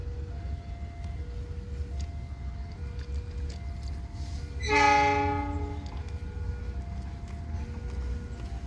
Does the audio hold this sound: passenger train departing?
yes